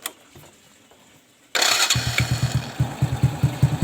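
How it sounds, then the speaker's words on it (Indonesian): Honda Supra X motorcycle engine starts after a quiet moment, then runs at idle with a steady, close, loud rhythmic chugging and light mechanical ticking, heard alone. "lebih baik kita dengarkan sama-sama suara mesin motor ini"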